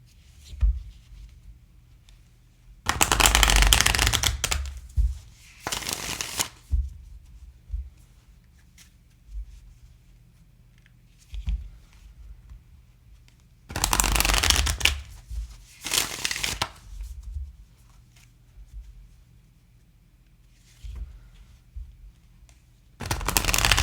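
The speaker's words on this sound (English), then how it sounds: "So I'm going to split it to shuffle it." Thick, sturdy first-edition tarot deck being split and shuffled by hand: several bursts of crisp card riffling and flapping between quiet pauses, with soft handling noises in between.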